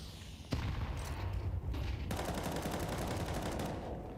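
Rapid automatic gunfire sprays in a Counter-Strike match during the Tipsport Conquest of Prague esports tournament, sustained dense bursts of shots at moderate loudness with sharp onsets and no talking.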